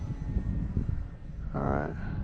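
A HobbyZone Carbon Cub S2 radio-controlled airplane flies overhead with a faint, distant electric motor whine under outdoor rumble, and a brief buzzing tone swells near the end.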